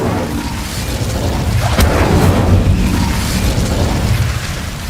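Incendio fire spell cast in the video game Hogwarts Legacy, a loud continuous roaring whoosh of flame with a bright crackling burst near the middle, filling the whole stretch without speech.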